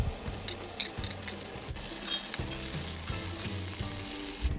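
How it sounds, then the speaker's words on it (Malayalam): Onion, green chilli and curry leaves sautéing in hot oil in a pan, a steady loud sizzle and crackle with occasional stirring scrapes throughout, no voices. "എണ്ണ ചൂടായി വരുമ്പോൾ അതിലേക്ക് സവാളയും പച്ചമുളകും വേപ്പിലയും ഇട്ട് വഴറ്റി കൊടുക്കാം"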